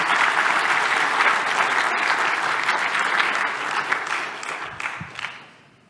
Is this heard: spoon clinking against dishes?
no